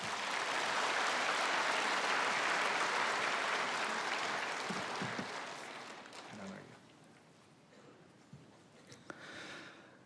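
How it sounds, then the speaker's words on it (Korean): A church congregation gives sustained applause to welcome a speaker to the front, a broad, dense wash of clapping that slowly tapers and dies away into quiet room sound with a few faint noises. "박수로 환영하겠습니다"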